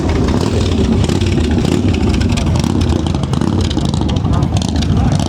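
Motorcycles revving and rumbling at the Łeba Bike Week parade, a continuous loud engine roar close by with someone talking over it.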